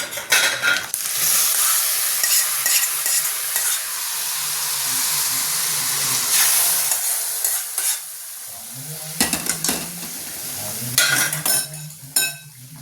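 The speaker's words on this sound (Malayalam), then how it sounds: "അപ്പോൾ വറവ് നമ്മളിങ്ങോട്ട് ഇടുകയാണ്." Tempering dropped into a hot pan for a Kottayam-style mango pachadi, crackling and sizzling loudly and steadily, with brief scraping and stirring clinks of a utensil against the pan toward the end.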